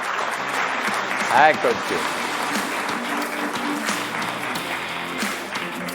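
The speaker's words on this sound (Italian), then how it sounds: "adesso dobbiamo fare un applauso" An audience applauds steadily throughout, a broad continuous patter of many hands, while a presenter's voice talks over it at a live show before a musical piece.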